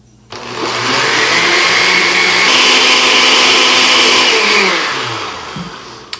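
A blender blending soda-based hot sauce whirs loudly and continuously for several seconds, ramping up and then winding down before a small clunk at the end.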